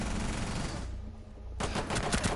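Gunfire in the video game Rainbow Six Siege: a rapid burst of shots, then a brief lull, then another fast volley of shots, loud and close.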